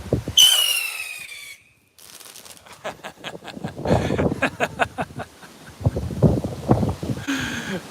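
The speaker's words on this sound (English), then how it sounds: "I got a jumbo bottle rocket. Let's try one big one, a big rocket." A jumbo bottle rocket firework launched outdoors: a sharp whistling squeal at the start, a brief gap, then a run of crackling pops and bursts at close range, with wind noise over the microphone.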